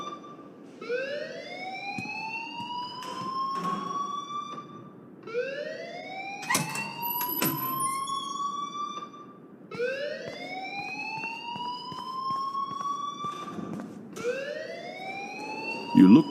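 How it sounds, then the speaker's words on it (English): An alarm wailing in the video game Life is Strange, a rising siren-like tone that repeats in four long sweeping cycles, loud and steady with faint background sounds. "please turn off that alarm since that's your job."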